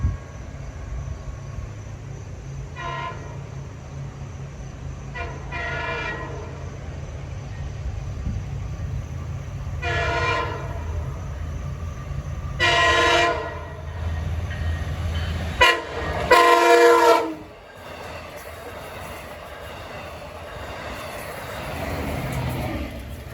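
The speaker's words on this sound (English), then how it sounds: "Got a westbound equipment train at" Westbound Long Island Rail Road equipment train on the Montauk Branch near McConnell's Avenue, Bayport, sounds a series of loud horn blasts in a long-short pattern over the steady rumble of passing railcars, with crossing noise fading at the end.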